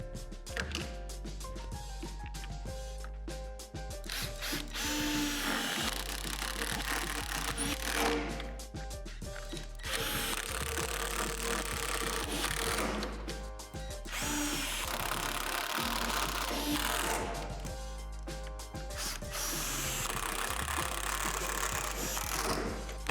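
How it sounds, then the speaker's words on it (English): Self-tapping screws driven by a power drill to fasten the center frame pad under the rim of a Lifetime 52-inch in-ground basketball hoop, with repeated whirring, ratcheting bursts separated by brief pauses, steady and close with no talking. "then secure with the self-tapping screws"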